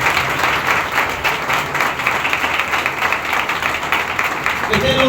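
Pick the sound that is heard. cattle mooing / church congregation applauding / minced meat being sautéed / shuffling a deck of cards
church congregation applauding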